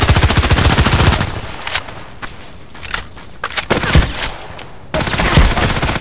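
Rapid bursts of SR3M compact assault rifle fire in a video game death match, loud and close, with a sustained volley at the start, scattered shots in the middle and another dense burst near the end.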